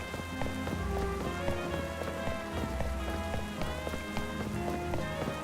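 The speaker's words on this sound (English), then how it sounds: "I'm sure the rain will stop soon." Rain falls in the video game Pokemon Legends Z-A, a soft patter under layered game music with plucked tones and rhythmic notes, fairly quiet and steady throughout.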